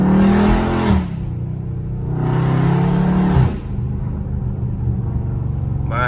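Catless Dodge Challenger Scat Pack V8 revving up hard twice in loud, close bursts with a deep rumbling idle between, a driver's-seat perspective with no talking.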